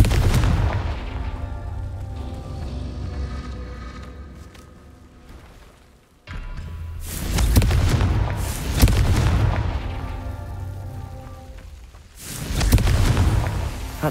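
Explosions from the Confringo spell in Hogwarts Legacy: two heavy booming blasts, each with a sharp onset and a long rumbling decay, the first one fading out before the second strikes, with another burst near the end.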